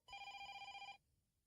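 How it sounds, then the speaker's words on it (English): A telephone bell rings loudly in one steady electronic burst of just under a second, then cuts off, leaving a quiet room. "Oh, the phone."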